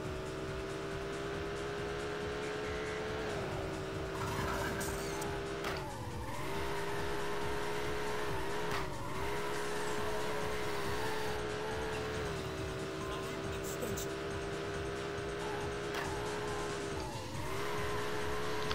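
Racing cars roar steadily with repeated tire squeals on cornering, engine pitch rising and falling throughout, from the arcade racing game Scud Race Plus, set in a toy-filled living room; continuous and loud with no talk.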